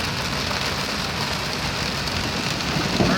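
Heavy rain pours during a lightning storm, making a loud, even hiss of drops hitting surfaces that stays constant throughout, with no voices and no clear thunder.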